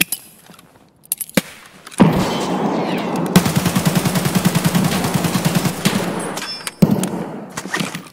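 Automatic gunfire in the shooter game Escape From Tarkov, a sustained burst of rapid shots lasting several seconds after a few isolated cracks, loud and close.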